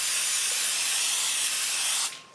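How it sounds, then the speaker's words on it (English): Basting adhesive spray aimed at an embroidery hoop for a scrub jacket, one loud continuous aerosol hiss lasting about two seconds before cutting off abruptly, close up and alone. "Now I'm gonna take my basting adhesive and spray this and line up the jacket."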